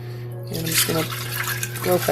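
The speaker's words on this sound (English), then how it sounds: "put my beans in, and I'm going to be adding more water" Water pours into a pot of dry beans in a steady, near splash and trickle, while a person talks over it.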